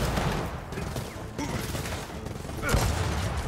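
Bursts of rapid gunfire and explosions crackle during Gears of War 4 gameplay, dense and continuous with a heavier blast near the end, mixed with faint voices in the background.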